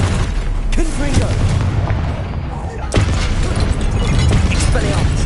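Fire spell explosion in the video game Hogwarts Legacy, a loud booming blast layered over dense game noise, with a sharp burst near the start and another about three seconds in.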